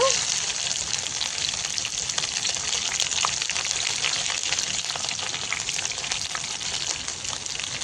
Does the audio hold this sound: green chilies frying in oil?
yes